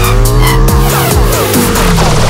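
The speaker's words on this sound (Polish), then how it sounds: "Przed zakrętem musi dość ostro zredukować biegi, co wprowadza tylne koło w kontrolowany uślizg i pozwala ustawić motocykl bokiem" A Harley-Davidson flat track motorcycle downshifts hard and slides its rear wheel into a corner on a dirt oval, engine loud and close with a rising, wavering roar.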